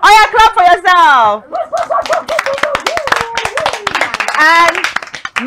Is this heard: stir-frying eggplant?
no